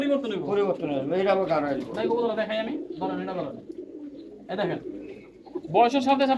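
Pigeons coo in a breeder's loft, soft throaty calls mixed in with people talking close by throughout.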